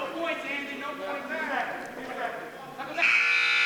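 A scoreboard buzzer at a high school varsity wrestling match sounds one sustained, steady tone near the end, ending the first bout, after an announcer's commentary.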